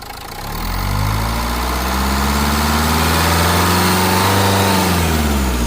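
A 2015 Renault Lodgy RXZ diesel engine idles close by, then rises into a slow, steady rev that holds a loud, even drone with clear harmonic tones throughout. No one speaks.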